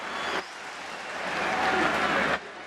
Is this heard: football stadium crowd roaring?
yes